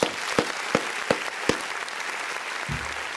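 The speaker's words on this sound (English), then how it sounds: "Let's give them a round of applause." Modest applause for a webinar audience's co-founders runs as a light, steady patter, punctuated by a few sharp regular claps up close, ending with a brief low thump.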